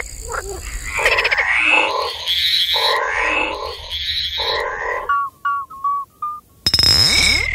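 Frog croaking through an inflated vocal sac, such as a common toad or tree frog, in a run of loud, close, pulsed croaks with a few short higher calls after them. No one speaks.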